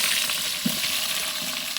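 Onions frying for a bamboo chicken biryani cooked outdoors, a dense, loud, continuous sizzle with a faint stirring knock, close up and without talk.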